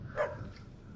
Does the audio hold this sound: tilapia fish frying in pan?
no